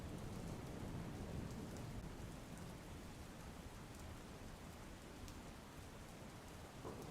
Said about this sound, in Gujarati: ગિરિમથક સાપુતારા સહિત ડાંગ પંથકમાં વરસાદી માહોલ જામ્યો છે